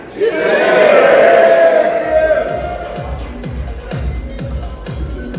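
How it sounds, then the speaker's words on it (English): Guests at a wedding reception cheer for the best men, a loud crowd roar swelling in the first seconds, then fading into chatter over a pulsing dance-music beat. "A nice round of applause for the best men"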